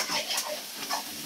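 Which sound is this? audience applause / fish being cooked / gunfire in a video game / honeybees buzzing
fish being cooked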